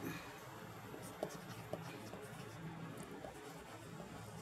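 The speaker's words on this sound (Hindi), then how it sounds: "मैं आपको यहाँ पे लिख दूँ" Writing on a board in an English grammar class, with faint scratchy strokes and a few soft taps over a quiet room hum and no talking.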